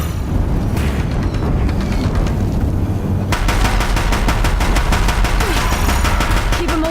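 Deathbringer war machines in Horizon Zero Dawn firing heavy guns, a dense rapid burst of loud, close machine-gun fire with booming impacts that grows sharper and faster midway, continuous throughout without speech.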